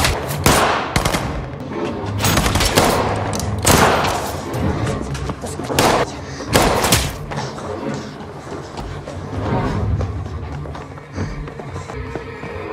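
Rapid gunfire erupts during a film shootout in a fight-and-escape scene from the action thriller Hanna: loud, close bursts of shots and heavy thuds repeat through the scene over a dense rumbling score.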